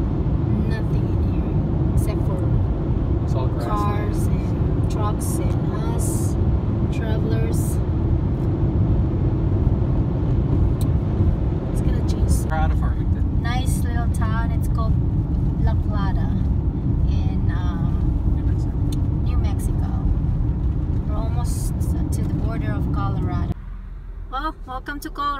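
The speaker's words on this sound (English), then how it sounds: "Nothing in here except for cars and trucks and us." Road noise from cars and trucks on a highway across open plains in winter, a steady loud rumble close by throughout, with people talking over it before the sound drops abruptly near the end.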